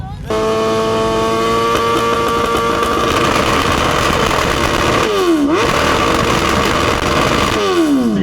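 A loud track motorcycle engine idles roughly then revs up in sharp bursts at a motorcycle rally in Gabrovo, Bulgaria, close and harsh, with the pitch rising and dropping.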